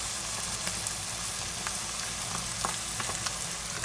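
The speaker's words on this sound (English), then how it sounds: "Can you hear that sizzle?" Food sizzling as it fries in a hot pan, a steady, loud crackling hiss with occasional sharper pops, continuous and close, with no voices.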